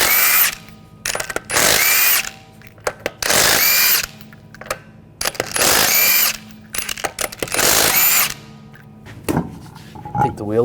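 Impact gun with a 19mm socket spinning lug nuts off the rear wheel of a 2013–2022 Buick Encore, several loud whirring bursts of about a second each separated by short pauses, close up, with a voice speaking briefly.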